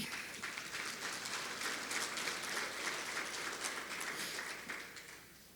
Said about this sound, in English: So you all really deserve a round of applause for getting through 2020.